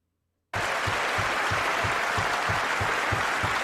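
Audience applause from a crowd at a debate, starting abruptly and holding steady as a dense, close wash of clapping with no speech.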